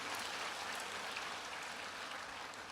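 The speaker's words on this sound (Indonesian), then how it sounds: "Mari kita tepuk tangan buat setiap pahlawan-pahlawan kita" A church congregation gathered for an Indonesian Independence Day service applauds its national heroes, a sustained, even wash of clapping from many hands with no voices on top.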